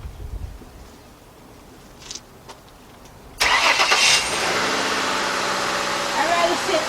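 A 1999 Dodge Dakota Sport with a replacement 3.9 engine, quiet at first, then the engine abruptly cranks and catches, settling into a loud, steady close idle.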